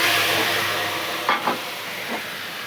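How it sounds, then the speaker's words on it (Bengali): Nigella seeds, turmeric and chili powder sizzle in hot oil, giving a steady close hiss with a few soft stirring clicks near the end. "এখানে দেখো তেল বসিয়ে দিয়েছি আর এখানে দেখো বন্ধুরা কালো জিরে ফোড়ন দিয়েছি"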